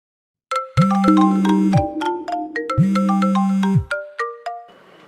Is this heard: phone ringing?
yes